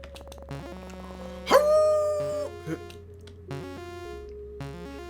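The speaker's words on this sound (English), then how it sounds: "Is that a dog?" A dog barks and howls in the horror game You Will (Not) Remain, with a short series of bark-like calls rising over a low droning electronic hum and eerie tonal music.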